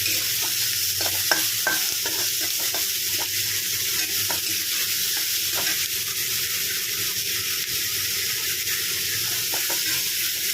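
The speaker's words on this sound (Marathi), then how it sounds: "कांदा टाकून घेतलेला आहे तो आता यामध्ये आपण छान असा फ्राय करून घेणार आहोत" Chopped onion frying in a pan for an okra dish, with a steady loud sizzle and frequent short scrapes of stirring running through the whole stretch, and no voices.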